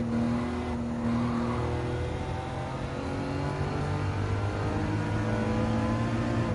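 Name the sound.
racing car engine in Gran Turismo 7 video game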